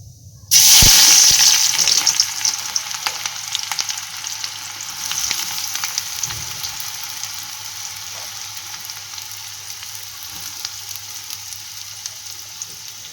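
Onions dropped into hot oil in a kadhai burst into a loud, crackling sizzle, then settle into a steady, slightly fainter frying hiss that carries on alone with occasional pops, part of a spicy prawn and potato gravy.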